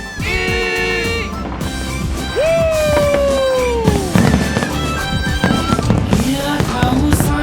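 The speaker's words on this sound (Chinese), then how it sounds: "璀璨星空、闪耀昆生的百万烟火秀。" Aerial fireworks show celebrating the 360th anniversary of Nankunshen Daitian Temple in Tainan, Taiwan: rising whistles and repeated loud bursts and crackles overhead, with a crowd faintly audible underneath.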